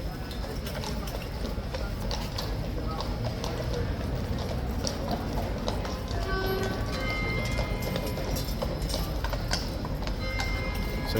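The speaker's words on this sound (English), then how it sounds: "Okay, in go the horses, one by one." Horses' hooves clip-clop in quick overlapping steps on a hard surface as several horses are led into stables one by one, under a person talking over busy outdoor background noise.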